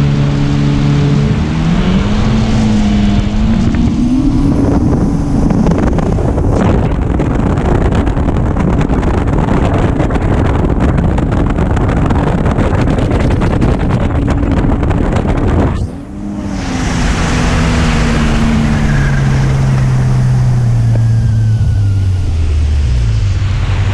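A Yamaha FX SHO personal watercraft with a Haltech-tuned engine accelerates hard at full throttle on open water. Its engine note climbs steeply and loudly under heavy wind rush, dips briefly, then surges and climbs again.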